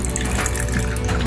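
A short, steady pour of leftover water into a glass, a close, continuous gurgling splash with no talking.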